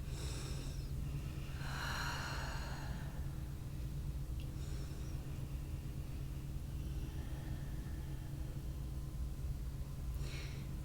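Steady breath sounds during a yoga class, a couple of soft inhale and exhale gusts near the start and end over a constant low hum of the room.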